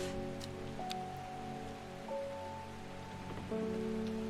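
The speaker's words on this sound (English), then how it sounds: "Well, it's raining again." Rain falls in the game Strange Horticulture, a soft, even patter heard under sustained, gently shifting musical tones with no voices.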